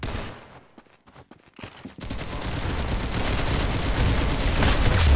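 Rapid bursts of video game gunfire: a few sharp shots early on, then a dense, continuous fusillade that grows louder and fills the rest of the stretch.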